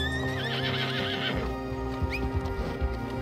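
A horse in Red Dead Redemption 2 gives a loud, close neigh with a wavering whinny, then hooves clip-clop and shuffle beneath it.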